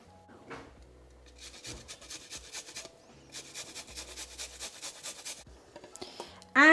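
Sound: grating garlic into cauliflower

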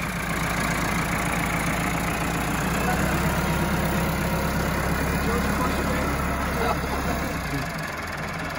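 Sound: tractor engine running

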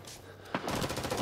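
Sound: gunfire in Rising Storm 2: Vietnam video game

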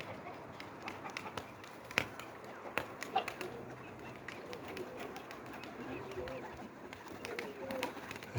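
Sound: birds, pigeons

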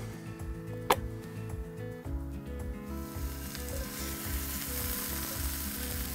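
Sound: cherry tomatoes frying in a drop of oil

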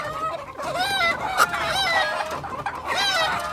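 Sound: rooster and hens clucking

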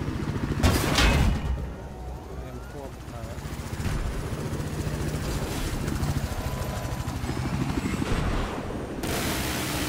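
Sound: helicopter in the video game Battlefield 4

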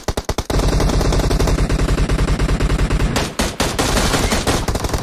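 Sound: single-fire gunshots in a video game

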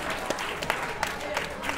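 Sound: studio audience applause for an eliminated contestant

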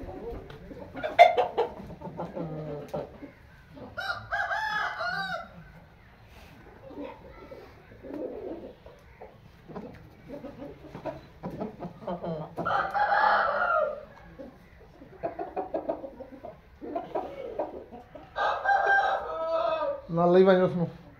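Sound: Aseel roosters crowing and clucking

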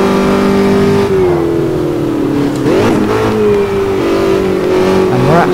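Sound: Formula Dirt car engine revving in Automobilista 2 video game

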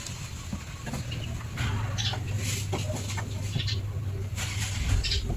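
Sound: Rhode Island crossbred mother hen clucking

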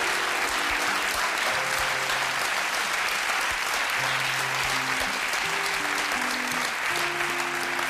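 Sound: studio audience applause

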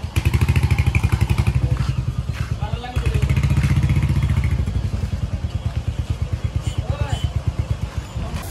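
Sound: Hunter motorcycle being ridden

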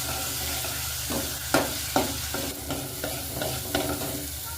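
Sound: frying tempering (phodni) in oil

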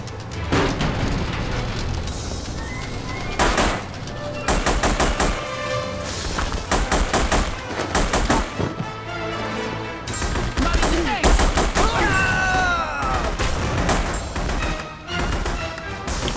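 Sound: gunfire in The Punisher video game

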